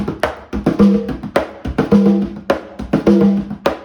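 A steady, repeating Latin marcha rhythm with sharp hits and pitched drum tones, played alone on percussion in a lively, evenly cycling groove.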